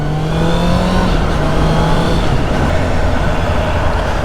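A Citroen engine drones loudly and continuously, its pitch shifting slightly as it drives past nearby amid steady road noise.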